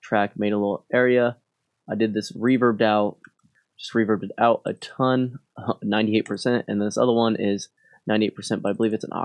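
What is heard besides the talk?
No distinct noise like a dog, phone or traffic.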